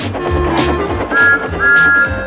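Two bright sustained steam locomotive whistle tones sound over a rumbling, rhythmic chugging of a train in motion at full speed, each blast lasting about half a second.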